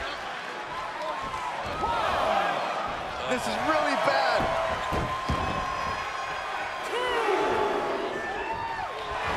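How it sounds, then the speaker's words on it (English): Crowd roar in a wrestling video game during a mixed-gender tag match, a loud continuous wash of cheering that swells in waves while a commentator talks over it. "The sound of this crowd is deafening"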